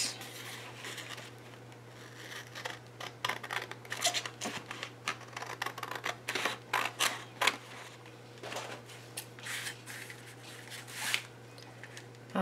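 Scissors snip through paper while cutting out paper dolls, a run of short, crisp clicks and rustles close by over a steady low hum, with no talk.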